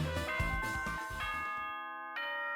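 The ding-dong announcement chime from the video game Danganronpa 2: Goodbye Despair plays a bright, bell-like melodic sequence of tones that ring out and then decay, clear and prominent, with no voices.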